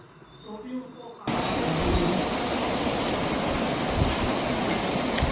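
Floodwater of the swollen Kosi River near Almora rushes loudly and steadily after a quieter start, a dense, continuous roar of churning water with faint voices beneath it early on.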